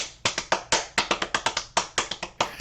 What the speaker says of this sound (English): Just some clapping and some yeah, smacking.